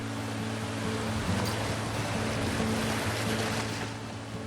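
High ocean waves off Jeju where haenyeo women divers are working, a loud, continuous broadband wash of surf and churning water that stays steady throughout with no talking.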